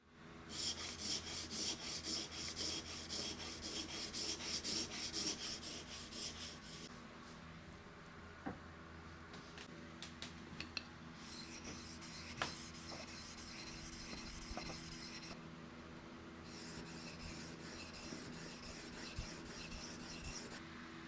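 A steel marking knife worked by hand on sandpaper in a workshop, producing a long run of steady, fairly quiet rasping strokes, with slower rubbing passes and a few light taps in between.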